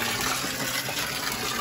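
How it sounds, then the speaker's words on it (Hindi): Water gushing heavily from a tap in a bathing area, a loud, steady hiss and splash of running water with no voices. "ये भाई पानी आ रहा है फुल हैवी वाला"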